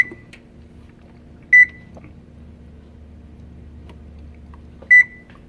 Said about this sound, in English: we'll set the timer for 20 minutes